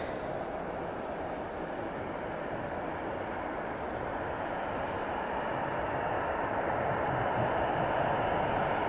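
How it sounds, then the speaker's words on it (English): An Air Baltic A220 (C Series) jet rolls down the runway for takeoff at Riga International Airport in freezing, snowy weather, giving a steady broadband roar that builds slightly over several seconds at moderate distance. "we've got an Air Baltic A220 C series just about to take off"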